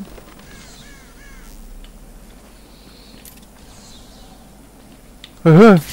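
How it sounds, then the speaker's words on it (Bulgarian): Crows caw in Batman: Arkham City, with a faint call early on and one loud, harsh caw near the end over a low, steady ambient hum. "Те гарги видях горе."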